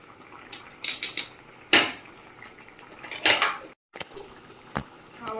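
Metal pots and cutlery clatter in a home kitchen while a pot of deshi shing fish and homegrown brinjal curry is covered with its lid, with several sharp clinks and knocks scattered across the clip.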